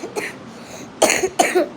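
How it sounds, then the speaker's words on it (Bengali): A person coughs close by, with a faint first cough followed by two louder, harsh coughs in quick succession. "কাশি হয়েছে"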